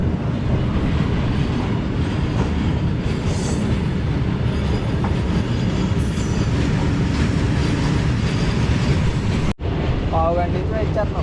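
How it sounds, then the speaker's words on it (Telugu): A train rolls past a railway level crossing, its loud steady rumble and wheel clatter filling the scene, with a faint squeal of wheels and an abrupt break near the end. "ఇప్పటికి 3 ట్రైన్లు వెళ్ళి."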